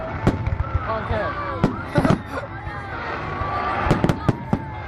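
Fireworks bursting at the Blackheath display in 2009: a quick run of sharp cracks and thuds, with crackling and whistling trails, over background crowd noise and nearby voices.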